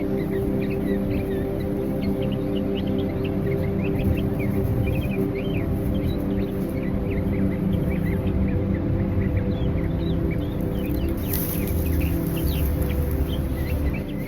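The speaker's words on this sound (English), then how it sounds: "The bird sounds so beautiful." Birds chirp and call repeatedly over a steady hum of background noise, with faint clucking among them and no talking.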